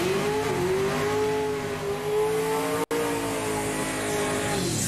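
A car with a Ford Coyote engine revs steadily, close and loud, its engine note holding strong with a brief dip partway through, then carrying on, no voices.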